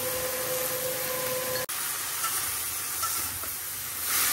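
Vegetables frying in a pan with salt give a steady close sizzling hiss, broken by a brief clatter, then continuing evenly with no talking.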